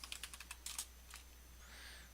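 Quick run of keystrokes on a computer keyboard, a brief close clatter of clicks followed by a soft tail of quiet background noise, no speech.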